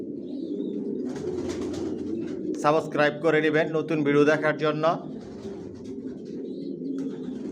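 A Milli racer pigeon hen of the Johnson line sits on her eggs in a loft and gives several rolling coos. Someone talks over the cooing for most of the stretch.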